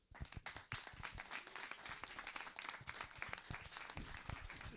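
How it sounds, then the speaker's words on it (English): A church congregation at a Sunday service claps for a guest speaker. The applause is close and crisp, with distinct individual claps over a steady bed of clapping that keeps going throughout. "I'd like to everybody give a warm applause for our next guest, Shinjun Moon."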